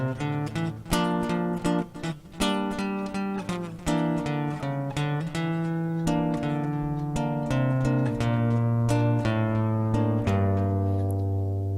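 A solo guitar plays "Poinciana", alternating low bass melody notes with higher strummed chords in a steady, moderate rhythm, close and clear, with no talking.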